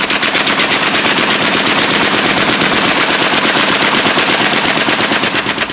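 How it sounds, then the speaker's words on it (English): A water-cooled World War I Maxim machine gun fires in a long, unbroken burst, a rapid steady stream of deep, heavy, mechanical thudding shots that stays loud from start to finish. "Its firing sound was deep and mechanical, a thudding, steady beat"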